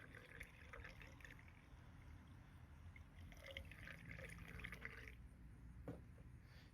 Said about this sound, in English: and just add the coolant.